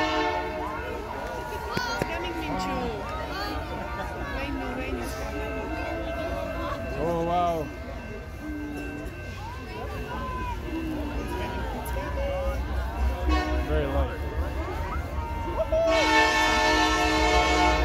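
A Canadian Pacific holiday Christmas train sounds its horn in a steady, tonal blare over the rumble of passing rail cars, with people talking nearby throughout.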